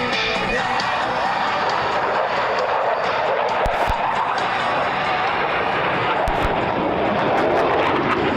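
An F-18 jet in clean configuration flies a slow-speed pass at the Dayton Air Show, its engines a loud, steady roar throughout, with an announcer talking faintly underneath.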